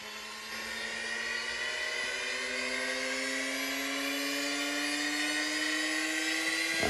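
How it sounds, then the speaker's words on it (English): An RC motorbike's gyro flywheel spools up with a steady, rising whine that holds loud and continuous throughout, a single tone climbing slowly in pitch. "it says flywheel. So you turn that on. So you give him like 30 seconds to spool up"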